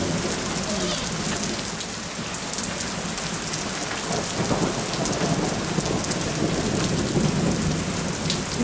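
Heavy rain on an early June morning in Romania pours down steadily and loudly, with low rolling thunder rumbling beneath the hiss and the downpour swelling slightly toward the end.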